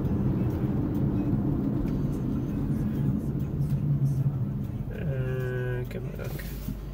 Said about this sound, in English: so many cars